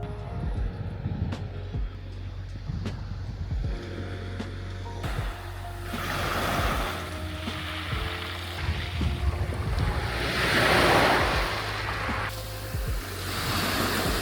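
Steady ocean waves wash onto a beach, a broad hiss of surf rising and falling with gusts of wind buffeting the microphone and no voices.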